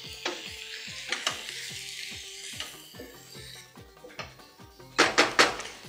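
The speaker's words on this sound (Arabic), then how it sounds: "هحط في الوقت ده الفلفل الحامي" Hot peppers sizzle in a pan with vegetables while being stirred, with repeated scraping strokes over a steady frying hiss, the sizzle surging louder near the end.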